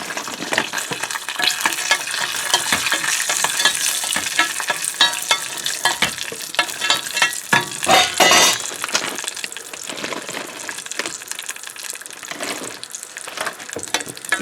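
Cashews and raisins fry in ghee with a loud, crackling sizzle, broken by frequent stirring scrapes and small metallic clinks against the pan, with no talking.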